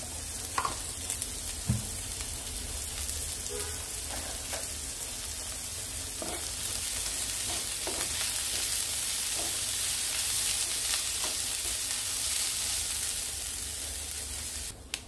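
Onion, garlic and ginger fry in a little oil for a Goan omelette and curry, a steady close sizzle and hiss with occasional scraping stirs and clicks throughout, with no talking.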